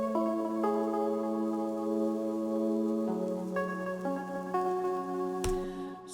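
Piano melody sample from Cymatics playing in Ableton, clear sustained notes stepping through a slow tune with ringing overlapping tones, alone and fairly loud, ending on a sharp click.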